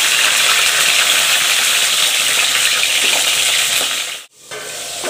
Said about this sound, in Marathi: हे तेलामध्ये सोडून द्यायचे. मस्तपैकी याला छान परतून घ्यायचे